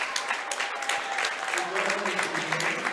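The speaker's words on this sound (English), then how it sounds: "the 4 Bronco seniors, get a nice round of applause from the Bronco fans" Fans in a gym at a girls' high school basketball sub-state semifinal applaud four departing seniors, a steady wash of crowd clapping heard slightly distant beneath an announcer's voice.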